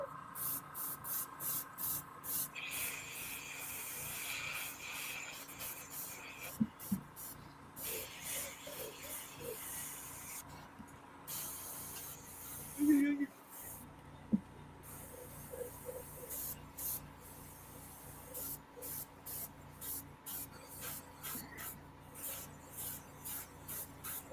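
An airbrush sprays paint to touch up small spots in quiet, repeated hissing bursts that start and stop, fairly soft and close.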